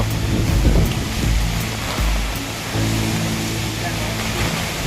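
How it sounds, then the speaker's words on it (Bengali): Heavy rain and gusting wind from Cyclone Remal roar steadily over a rooftop garden throughout, a dense broadband wash with low rumbling surges. "বন্ধুরা কি শব্দ তুফানের কি শব্দ"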